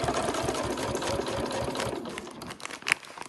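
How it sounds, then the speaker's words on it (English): An overlocker sewing machine stitches along the edge of a fabric thread catcher, running as a steady, close whirring hum for about three seconds before it eases off and ends with a brief clack. "and then you can see I'm just sewing"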